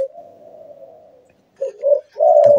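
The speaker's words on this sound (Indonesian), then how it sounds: "Nah itu suara burung saya tekukur satu lagi." A spotted dove (tekukur) gives a run of soft cooing notes: a long low coo, a pause, then two short coos and a final longer phrase, close and clear with no one talking.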